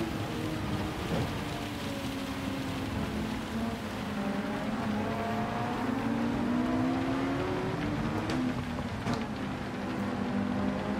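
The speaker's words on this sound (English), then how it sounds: "You can really feel that rain." Steady rain pours over a car racing at night in Gran Turismo 7, a dense continuous hiss with the engine droning underneath and a few sharper crackles near the end.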